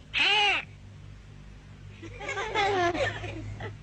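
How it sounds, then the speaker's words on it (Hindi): A pet parrot gives a shrill, rising call at close range, then a longer run of chattering, warbling squawks after a short pause, loud and unaccompanied by talk. "अरे ये तो हमारा तोता है।"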